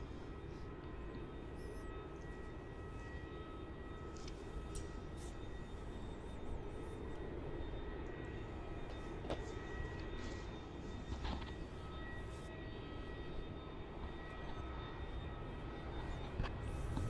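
A Qantas Freight aircraft taxis at Melbourne Airport, its distant engines a steady broadband roar and hum that holds at a constant level for the whole stretch, with no voices.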